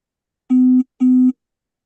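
During a court session, a telephone call tone sounds twice, two steady electronic beeps about a third of a second long and half a second apart, loud and clear with no talk.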